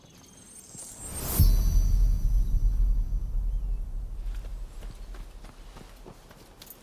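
Rapid hoofbeats of a horse trotting in the video game Rise of the Ronin, loud and close, with a sharp burst at the start and a steady rhythmic clatter that gradually eases.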